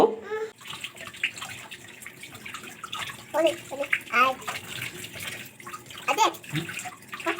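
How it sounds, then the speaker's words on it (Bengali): Rohu fish pieces washed by hand under running water in a basin, with splashing, sloshing and short bursts of dripping water close by, and a voice faintly in the background. "এরপর দেখো, এটাকে ভালোভাবে আগে ধুয়ে নেব।"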